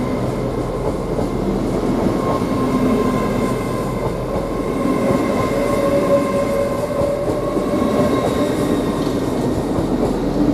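A train pulls out of a station at Doncaster, a steady loud rumble of rail wheels and engine with faint squeals and tones over it, continuous throughout with no talk.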